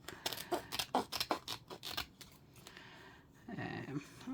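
Scissors snipping through paper while decorating journal pages, a quick run of about a dozen crisp close cuts in uneven rhythm, followed by a soft rustle of paper.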